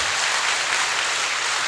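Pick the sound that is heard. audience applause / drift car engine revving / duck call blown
audience applause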